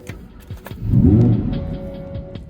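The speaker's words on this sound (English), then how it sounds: "So now with that set, we'll start it up." A Lamborghini Huracan Performante fitted with an immobiliser starts up: a short crank bursts into a loud engine flare that swells and peaks, then eases back to a steadier idle, close and with no talking.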